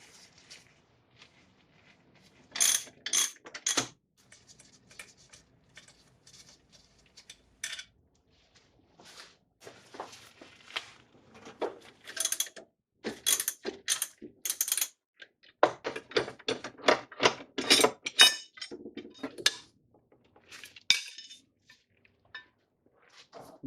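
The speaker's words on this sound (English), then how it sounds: "put your ratchet on after that, and then you should be able to loosen this and get it off" Ratchet and socket loosening bolts in the engine bay of a 1999 Acura RL during a timing belt job, heard as bursts of close metallic clicking and clattering with quiet gaps between them and no talking.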